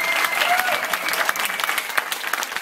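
An audience at a band's live concert applauds the bass player, a dense, loud burst of clapping that carries on steadily throughout.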